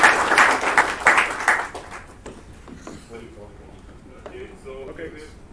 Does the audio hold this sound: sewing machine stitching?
no